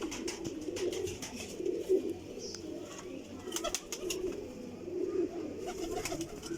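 Pigeons at a pigeon dealer's coop coo low and repeatedly, a soft continuous murmur with wing flutters and light clicks mixed in, close by.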